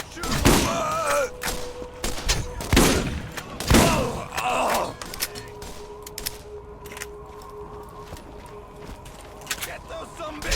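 Gunfire in the Borderlands video game: several loud, sharp bursts of shots in the first five seconds, followed by quieter scattered game sounds, with voices shouting under the action.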